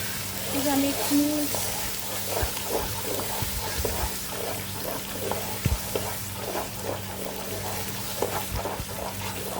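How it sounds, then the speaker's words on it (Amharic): Ground tomato hitting a hot pan of spiced fish stew base, giving a steady wet sizzle with stirring scrapes and occasional clinks, close by, with someone talking over it. "አሁን ቲማቲሜን እጨምራለሁ፣ የተፈጨ ቲማቲም"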